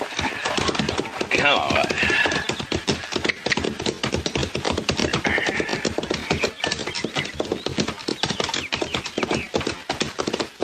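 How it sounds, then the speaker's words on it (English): Horses pulling a wagon clip-clop in a steady trotting rhythm, with creaking wheels and harness, in a 1952 radio drama. Someone speaks briefly over the sound. "Now, that's horses down there"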